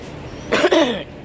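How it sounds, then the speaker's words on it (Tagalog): A single person coughs once, a short harsh burst in the middle of an otherwise quiet moment outdoors in a small garden, fairly close and fairly loud. "Sa ngayon, may ubo ako."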